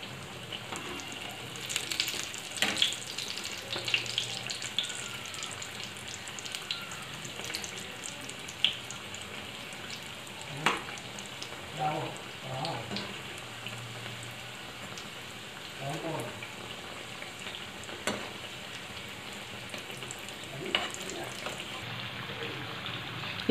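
Namkeen mathri frying slowly in oil over a low flame, a steady soft sizzle and bubbling throughout with occasional crackles and faint clinks, a voice speaking at times over it.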